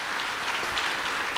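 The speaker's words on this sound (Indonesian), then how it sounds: "Yang percaya kasih tepuk tangan buat Tuhan." A church congregation claps together during an Indonesian sermon, a dense, steady patter of many hands filling the room without a break.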